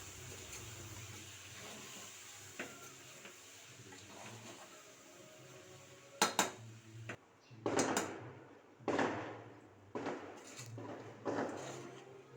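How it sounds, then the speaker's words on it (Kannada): Cooked vegetables are stirred in a pot: a quiet stretch gives way to several distinct scraping, clattering strokes of a utensil against the vessel, spaced irregularly and fairly close, with no talk. "ನಂತರ ಬೇಯಿಸಿದ ತರಕಾರಿಯನ್ನು ಹಾಕಿ ಒಂದು ಮಿಕ್ಸ್ ಮಾಡಿ"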